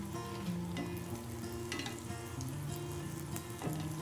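Apple wontons deep-frying in oil, a continuous bubbling sizzle close by, with a few soft stirring or flipping sounds and no talking.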